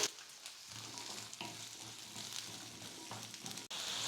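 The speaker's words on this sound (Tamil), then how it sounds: "வெங்காயம் பூண்டு கொஞ்சம் நல்லா வதங்கி வரட்டும்." Small onions and garlic sautéing in oil in a pan for fish curry, a soft steady sizzle with occasional stirring scrapes, fairly quiet and without voices.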